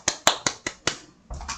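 A single person claps about five times in a slow, uneven rhythm, each clap sharp and close, then brief faint rustling follows.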